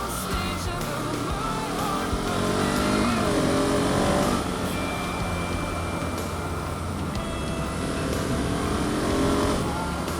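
An enduro motorcycle rides along country trails, its engine droning steadily with a rising rev near the middle of the stretch, loud and close throughout with no talk.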